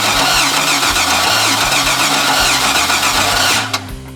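An outboard motor on a newly bought boat cranks with a loud, rhythmic churning of the starter, then breaks into a running roar before cutting off near the end.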